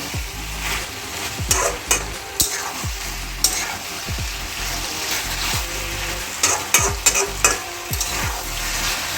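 Chilli cauliflower being tossed and stirred in a sizzling pan, with repeated scraping clatters of the utensil over a steady frying hiss, close and fairly loud with no talking.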